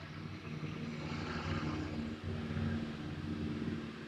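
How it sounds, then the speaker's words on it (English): A tractor passes by outdoors, a steady low engine drone with a constant hum that swells slightly and holds for several seconds. "What is that? Oh, it's a tractor."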